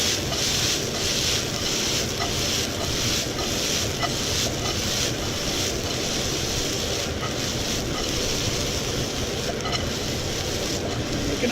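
A KitchenAid kitchen range hood fan runs in a home kitchen, a steady broadband whooshing roar with no talk over it.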